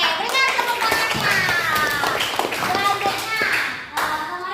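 Students clap in a classroom, sharp, close hand claps in a quick, uneven burst, with young voices talking and calling out over the clapping.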